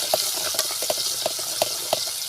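Onion paste cooks in oil in a pan over a wood-fired chulha, with a steady sizzle broken by regular soft stirring scrapes about every third of a second, close and fairly loud, with no voices.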